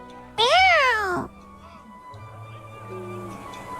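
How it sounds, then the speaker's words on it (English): A cat in the video game Duet Night Abyss lets out one loud, rising-and-falling meow up close, followed by quieter game background sounds and a faint voice. "Let's follow that cat."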